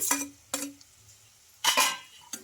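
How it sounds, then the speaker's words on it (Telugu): Boiled potato pieces are stirred into a tempering in a pan, giving a few sharp metallic scrapes and clinks of a spoon against the pan separated by short quiet gaps. "ఈ ఆలును కూడా వేసేసుకొని దీన్ని బాగా కలిపేసుకుందాం"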